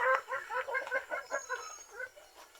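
Brown laying hens cluck in a steady series of soft, repeated calls at close range, with no talk over them.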